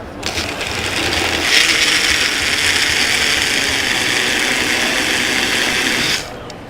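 Tribest personal travel blender whirring steadily as it blends a smoothie of strawberries and blueberries, a loud continuous motor hum running for about six seconds before cutting off.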